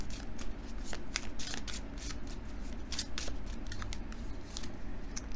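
Tarot cards being shuffled and drawn, giving a steady run of soft papery riffles and slaps over a low background hum, close and continuous.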